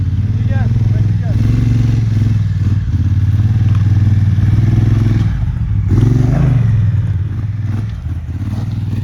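A maxi trail motorcycle labors off-road on a mountain track in Spain. The engine drones close and loud, then swells in a rev near the end, with clattering thumps from the rough ground.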